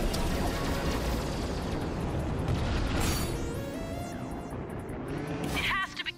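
Defense cannon blasts in the Ratchet and Clank video game, a dense, continuous roar of explosive booms and crashes with sharp electronic zaps near the end, loud and close.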